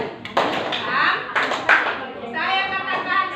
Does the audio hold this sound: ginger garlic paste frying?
no